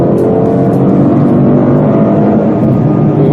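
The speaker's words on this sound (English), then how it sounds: "as an added bonus, it sounds fantastic. It's got a really sweet engine though." A 2015 Ford Mustang GT's engine gives a loud, sustained, throaty drone close by, holding steady throughout without any voices.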